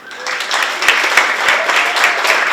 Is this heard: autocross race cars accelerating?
no